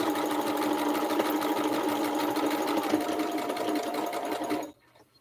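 A sewing machine runs steadily while stitching a quarter-inch seam in a quilt block, a close, continuous motor whir with rapid needle chatter that stops abruptly near the end.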